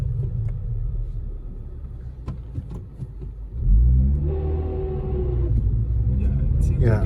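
A Honda Civic Si with a K-series engine is over-revved, a deep rumbling idle swelling into a loud rising rev that holds high and strained, with people talking before and over it.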